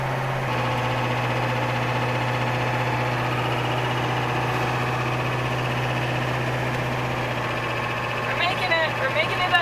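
An old school bus engine laboring up a Canadian mountain pass, a steady low droning hum with a constant tonal whine, heard from inside the cabin, with voices faintly present near the end.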